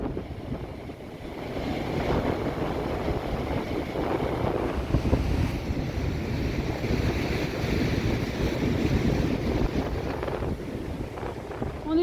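Rough, churning sea waves and gusting wind roar continuously along a Greek coast near a parked van. The sound is broad and steady, with buffeting wind on the microphone and no clear voices.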